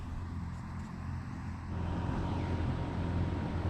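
Old, rough 1970 Pontiac GTO driven off a trailer, a steady low engine rumble that swells louder about halfway through, with no voices.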